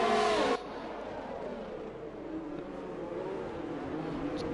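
Formula 1 race cars in a racing video game at the start of a race at Italy, a steady droning whine of engines with one car passing close at first, then a continuous blended roar of the field.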